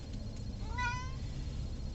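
A black cat that smells catnip gives a single clear, close meow, rising then falling, lasting under a second amid quiet room noise.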